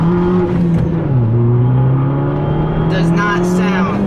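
A small Fiat 500 Abarth engine, on a lowered car, hums and revs steadily up close, its pitch dipping then climbing, with a brief rattly burst near the end.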